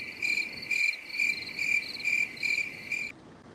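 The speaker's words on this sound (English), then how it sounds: "crickets chirping" Crickets chirp in a steady, evenly spaced series of short high pulses, about seven bursts over a few seconds, fairly close and clear over a low background hum, then stopping abruptly.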